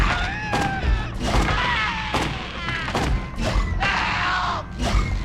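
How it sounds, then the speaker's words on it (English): Jump sound effects in the PS1 game The Lost World: Jurassic Park, several abrupt thuds and odd pitched squeals recurring every second or so, loud and close amid game noise, without talk. "That's just such a weird noise when you jump."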